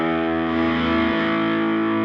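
PRS electric guitar with new strings, played with the tremolo arm: a sustained, distorted chord whose pitch dips and wavers slightly, loud and close with no talk.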